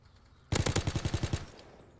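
A sudden loud burst of rapid automatic gunfire in a WW2 shooter game, about nine sharp shots in quick succession that then fade into a short echoing tail.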